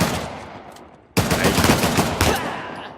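Enemy gunfire from above in Uncharted: The Lost Legacy: a loud burst of rapid shots erupts after a fading rumble, crackling for over a second, with a second sharp volley just after.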